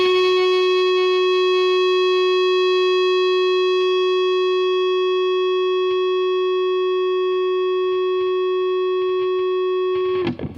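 Electric guitar through a PastFx Patriarch fuzz pedal, a Civil War Big Muff variant, with the sustain turned up, holding a single steady, loud note for about ten seconds before it is cut off at the end.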